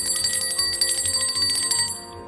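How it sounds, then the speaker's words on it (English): A small gifted bell rings out with bright, sustained metallic tones, struck repeatedly in quick succession for about two seconds before the ringing fades, close and clear with no talking. "This bell was gifted to me"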